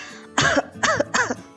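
Three short, forceful coughs with a throaty, rasping edge from a woman coughing in her sleep, evenly spaced and close, with no speech.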